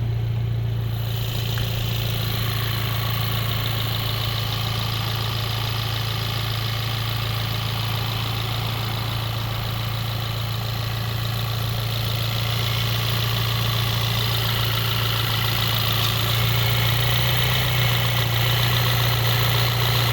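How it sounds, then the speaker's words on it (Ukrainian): A 2012 VW Golf VI GTI 2.0 TSI engine with automatic transmission idles smoothly and continuously for a long stretch, a steady close hum with a faint ticking texture and no voices. "Двигун, як я говорив, ідеальніше працює."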